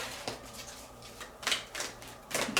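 Tarot cards riffle and snap in a few quick bursts, close and fairly quiet, separated by short pauses.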